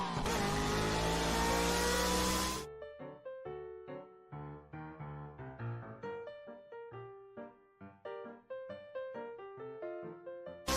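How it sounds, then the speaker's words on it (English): Video game car sound effect: a loud, harsh engine drone for about two seconds that cuts off abruptly, giving way to soft, plucked melodic music. "the car sound effect is horrible"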